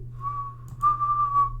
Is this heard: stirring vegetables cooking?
no